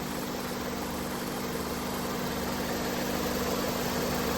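A Honda Civic engine idles steadily after thermostat and temperature sensor work, a constant low hum with faint vibration and no voices over it.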